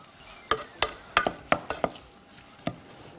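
A utensil stirs tomato cubes with garlic, thyme, butter, sugar, black pepper and salt in a pan, giving a series of irregular, close, sharp scrapes and clinks over a soft background hiss.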